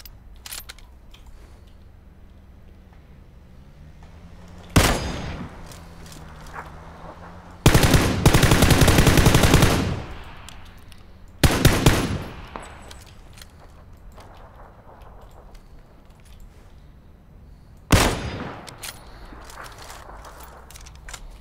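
Gunfire in PlayerUnknown's Battlegrounds: a single sharp shot, then a loud sustained automatic burst, followed by two more distinct shots spaced several seconds apart, with quiet ambience between.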